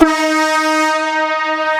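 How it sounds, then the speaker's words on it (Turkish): A loud, sustained original car horn of a Toyota Hilux blasts with a rich, steady multi-tone sound, holding for nearly two seconds without a break. "Şimdi bak bu orijinal kornası."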